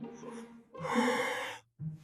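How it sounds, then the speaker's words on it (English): A person yawns in a drawn-out, breathy exhalation of about a second, followed by a short voiced breath, loud and close with no speech. "I am yawning because I'm tired."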